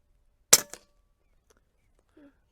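A single sharp crack from a Huben .25 caliber airgun, followed by a brief echoing tail and a faint distant sound after, otherwise quiet.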